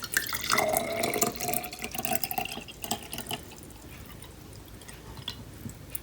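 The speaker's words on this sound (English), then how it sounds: "open your jar and pour some of your water halfway into your jar" Water poured from a container into a jar while making a DIY calm-down jar, a splashing, trickling pour that is strongest in the first couple of seconds, then thins into scattered drips and small splashes.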